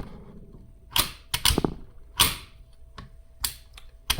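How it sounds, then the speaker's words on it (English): Sharp metallic clicks and clacks of a rifle being reassembled and recharged, its slide and gas piston handled, in irregular bursts of about eight close, crisp snaps over quiet room tone, without talking. "We have to recharge this weapon."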